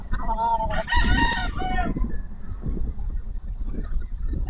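A gamefowl rooster at a gamefarm crows loudly nearby, one full cock-a-doodle-doo, followed by a low rumbling background with faint clucking.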